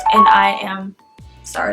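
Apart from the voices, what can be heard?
phone ringing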